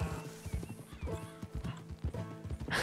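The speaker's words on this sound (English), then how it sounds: "oh, my horse is too far" Horse in the video game Red Dead Redemption 2, hooves clip-clopping in a steady trotting rhythm with a neigh mixed in, close and fairly loud, with no talking.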